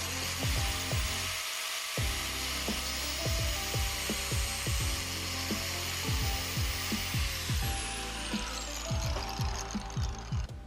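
Stainless braided brake line hose being cut with a power tool, a steady close whirring grind with a string of sharp repeated bites and clicks as the cutter works through the braid, no voices.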